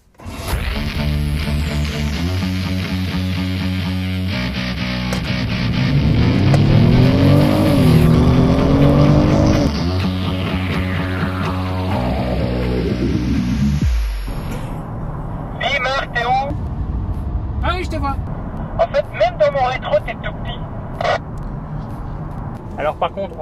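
A car accelerates hard, its motor whine rising sharply in pitch over several seconds before cutting off, followed by quieter road noise and scattered clicks.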